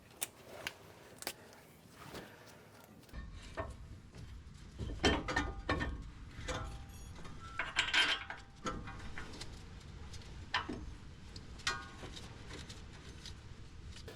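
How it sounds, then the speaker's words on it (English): Metal brake parts clink and clatter as a caliper bracket goes back onto the front brakes of a Ram 2500 truck, with scattered close taps and ratcheting mechanical clicks over a quiet workshop background. "We're going to put our bracket back on here, our caliper bracket"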